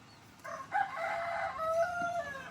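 A rooster crows once, a long drawn-out call from a short distance, over faint background noise.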